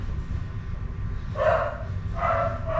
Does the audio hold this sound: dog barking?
yes